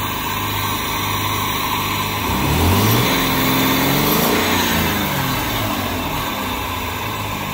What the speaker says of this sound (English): The engine is on. Let's rev it a little.